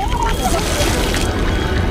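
Water sloshing and gurgling in a film scene, a continuous wet churning with a faint trailing watery tone, mixed under other movie sound.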